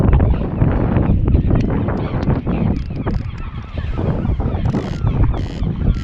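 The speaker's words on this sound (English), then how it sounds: "it's blowing a gale" Gale-force wind buffeting the microphone by the sea, loud irregular gusts and rumbling bursts with no break, dominating the whole stretch.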